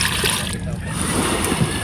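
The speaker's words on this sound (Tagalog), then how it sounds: "nilalagyan po ni Tito Dayo ng tubig para hindi masira yung pusit" Water splashes and trickles onto a freshly caught haul of squid aboard a fishing boat, a steady wet splatter running throughout at close range.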